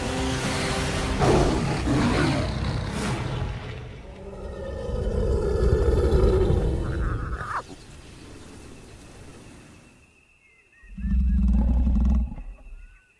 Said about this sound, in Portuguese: Outro rugido é ouvido, muito mais perto dessa vez.